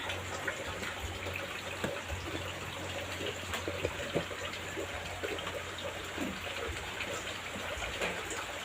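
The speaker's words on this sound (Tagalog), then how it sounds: "Umuulan man mga ka-idol." Rain falls steadily outdoors at a rural home near a pig pen, a continuous hiss of water with scattered drips and splashes, moderately loud and unbroken.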